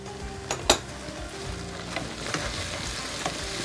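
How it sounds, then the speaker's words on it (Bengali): Onion paste frying in a pan for mutton shank kala bhuna, a continuous close sizzle broken by a sharp utensil clink and several softer scraping stirs against the pan. "আমার পেঁয়াজ বাটাটাও প্রায় 5-7 মিনিট মতো আমি খুব ভালো মতো এটাকে কষাচ্ছি, রান্না হচ্ছে"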